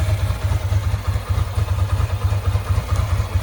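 With the choke off, a Ducati 907IE motorcycle engine idles nearby, a steady low thrumming pulse with slight unevenness and faint mechanical clatter, no voices.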